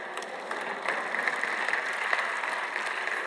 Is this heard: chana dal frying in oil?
no